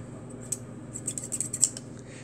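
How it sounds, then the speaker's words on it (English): Scissors snipping through paper to cut out a coupon for baseball cards, several short crisp snips in an irregular cluster, close and fairly quiet with no talking. "What you need is some scissors."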